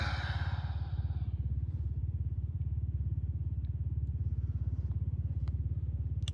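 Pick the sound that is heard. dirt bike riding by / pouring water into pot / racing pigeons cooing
dirt bike riding by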